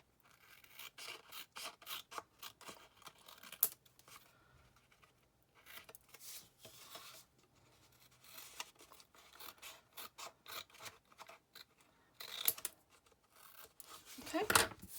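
Scissors snip through card, cutting the top off a piece for a pyramid treat box, in a run of quiet, close crisp cuts with rustling between them and a short pause midway.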